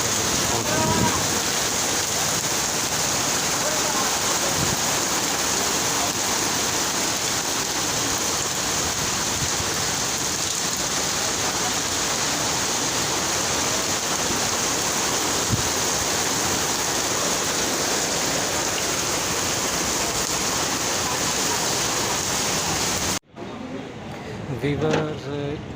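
Flooded Nala Lai stream in Rawalpindi, a loud, continuous roar of rushing water that fills the scene without pause, then cuts off near the end to quieter outdoor sound.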